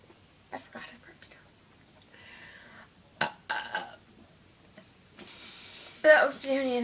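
Several short human burps during a casual burping contest, varying from faint to louder and scattered between quiet gaps, with the final one strongest near the end.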